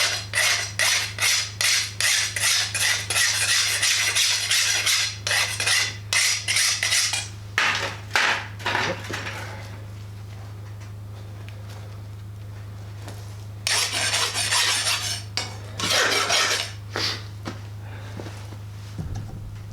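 A steel rasp is struck repeatedly in quick, ringing taps, in two bursts separated by a pause, over a steady low hum.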